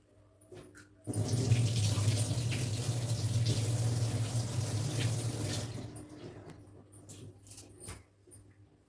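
Water pours steadily into a cooking pot of lentils for about five seconds, a close, hollow splashing gush that tapers off, surrounded by faint clatter.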